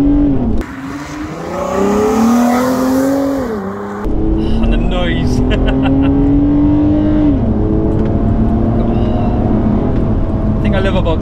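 A Nissan 350GT's engine revs up through high RPM on a rainy road, its rising, sustained whine climbing in pitch, dropping briefly and then holding strong, loud and close from inside the car.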